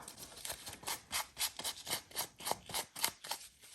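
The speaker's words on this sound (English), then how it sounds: "So I'll just rub more or less the tips of those papers that we bent backwards." An oxide ink pad rubs over the bent-back tips and edges of paper scraps in a series of quick, rhythmic scratchy strokes, close and soft, about a dozen passes with no talking.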